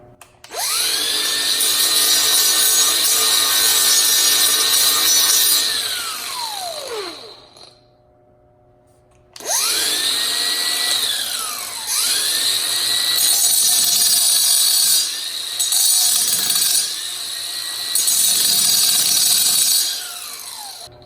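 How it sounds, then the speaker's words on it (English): A die grinder fitted with an aggressive metal-cutting blade cuts into the diecast base of a Johnny Lightning Christine movie car: a loud, close, high whine that spins down to silence, then restarts and wavers as it bites into the metal. "I don't want to scuff up the base too bad, so we're going to use a precision tool, a die grinder."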